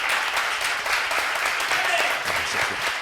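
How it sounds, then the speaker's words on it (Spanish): An audience applauds the mayor at an arcade convention presentation held in a vintage arcade museum, a steady wash of clapping at moderate level with voices mixed in beneath it. "vamos a darle un aplauso al alcalde también"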